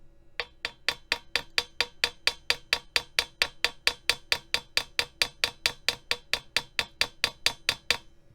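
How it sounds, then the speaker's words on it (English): A hammer raps a stuck valve cap on a vintage Conn cornet in a steady run of about thirty sharp, ringing metallic taps, close and loud, with no talking. "So let's do our hammer trick again."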